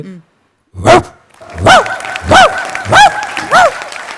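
A human voice imitates a dog barking, giving five sharp, close bark-like yelps in a steady rhythm after a short opening sound.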